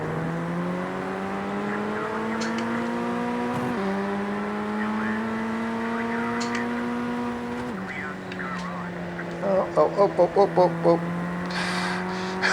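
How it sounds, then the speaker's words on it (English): Engine note of a Formula Ford 1600 rookie race car in iRacing at Lime Rock Park, droning and shifting pitch as it runs, then a run of rapid pulsing bursts as the car spins off and skids in a full circle; a brief exclamation is heard. "I misjudged the corner there, and I went completely off and skidded in a complete circle."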